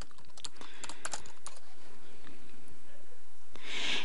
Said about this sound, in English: So we're going to type gmail.com and we're going to go ahead and log in.